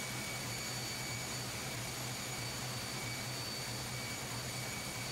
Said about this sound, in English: This is a six-cylinder,